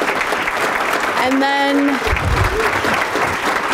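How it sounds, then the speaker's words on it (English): Audience applauding school music students at a school board meeting, a steady broad clatter of clapping throughout, with a voice speaking briefly over it midway. "So let's give them a round of applause."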